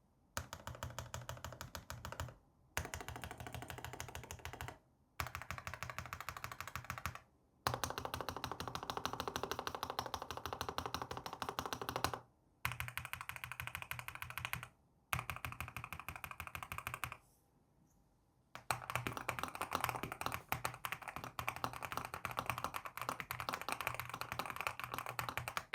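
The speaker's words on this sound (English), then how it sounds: "Let's see how this keyboard sounds with the linear surfer switches." Typing on a Lofree Flow 2 keyboard fitted with linear Surfer switches: close, steady bursts of soft keystrokes separated by short pauses, with no one talking.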